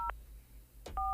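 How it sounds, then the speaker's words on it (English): Touch-tone telephone dialing: two short dual-tone beeps separated by a pause and a brief clunk of handling, clear and close with no talk. "Dialing out."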